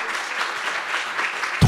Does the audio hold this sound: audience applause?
yes